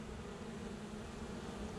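Honeybees drone around an open hive while a queen is being marked, producing a faint, steady, continuous buzz with no voices.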